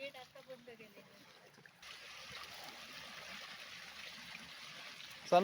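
Water runs over slippery rock in a forest stream, a steady mid-level rushing flow that swells after a quieter start with a few soft knocks.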